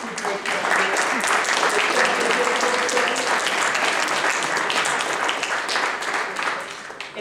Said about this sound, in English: I would invite you all to offer a round of applause to these two great candidates.